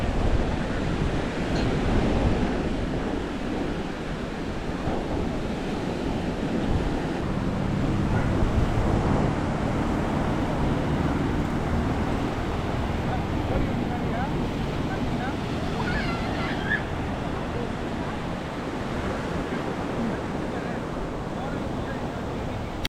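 Surf washes steadily onto the tourist beach on the eastern side of Havelock Island, a continuous broadband roar mixed with wind buffeting the microphone throughout.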